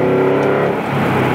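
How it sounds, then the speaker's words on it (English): Ford Mustang GT V8 engine heard from inside as it downshifts from fifth to third, a loud, steady droning rumble that shifts in pitch briefly and smoothly. "listen to the downshift. This is 5th to 3rd."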